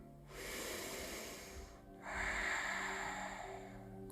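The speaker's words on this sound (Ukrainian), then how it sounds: "Вдих." Deep breaths drawn and released during a yoga session, two long airy rushes of breath in sequence, the second louder and more hissing, close and without talk.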